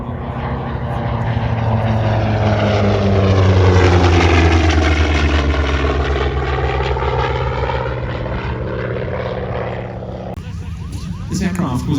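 An aerobatic aircraft, the Carbon in a two-ship routine at an airshow training day in Leszno, roars past with a loud engine drone that swells to a peak and sweeps down in pitch as it passes, then fades and gives way to a different engine sound near the end.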